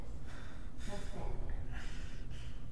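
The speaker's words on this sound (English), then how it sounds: "Why am I breathing so hard?" A character breathes hard in the Fallout 4 video game, with quick, rhythmic, close gasping breaths and sighs over a low steady rumble.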